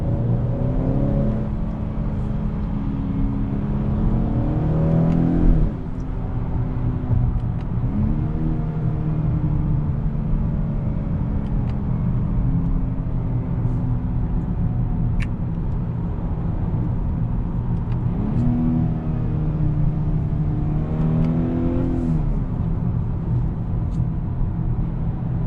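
A 2021 Honda Accord 2.0T Sport drives through traffic, heard from inside as a continuous low road and engine rumble, with two rising revs as it accelerates, under a steady whir, with no talking.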